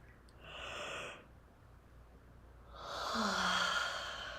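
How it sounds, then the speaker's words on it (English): A person gives a big yawn: a short breathy intake, a pause, then a longer, louder airy exhale with a faint low voiced tail, close and quiet, with no talk. "I got a nice big yawn"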